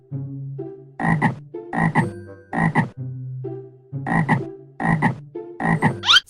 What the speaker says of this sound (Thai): เสียงกบ